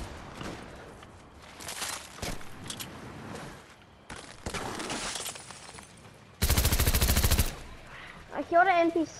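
Gunfire in a video game aimed at a non-player character: bursts of rapid automatic shots in several separate volleys, one long loud sustained burst near the end, mixed with other game sounds.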